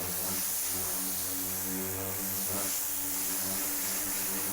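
A pressure-washer nozzle set to a straight stream sprays water steadily during detailing of a muddy truck, a continuous loud hiss with a low hum beneath, no talking.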